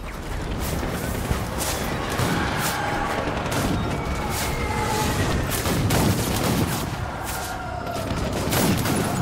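Rapid bursts of gunfire in Death Stranding pound in close, dense volleys with sharp cracks and booms across several seconds, continuous and loud.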